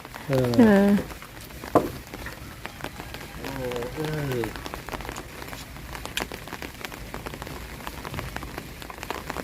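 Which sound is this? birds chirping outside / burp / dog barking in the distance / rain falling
rain falling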